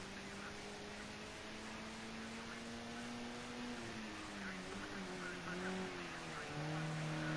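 Touring race cars in a modern touring car race lap Ruapuna circuit, engines droning steadily with rising and falling pitch as they shift gears through corners, continuous and fairly distant.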